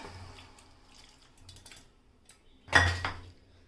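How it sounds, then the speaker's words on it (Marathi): Boiled vegetables are stirred into onion-tomato gravy in a pan for pav bhaji, with soft scraping and clinking of a utensil against the pan and one louder clatter near the end. "ह्यामध्ये आपण आता उकडलेल्या ज्या भाज्या आहेत त्यासुद्धा मिक्स करून घेऊयात"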